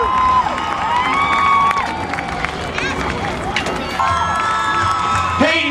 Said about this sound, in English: Ladies and gentlemen, how about a round of applause for all of our finishers